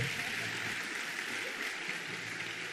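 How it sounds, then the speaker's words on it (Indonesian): An audience applauds the teachers at a Maulid Nabi gathering in an Indonesian Islamic boarding school, a steady, quiet wash of many hands clapping at a distance that keeps up evenly throughout. "tepuk tangan untuk semua para guru."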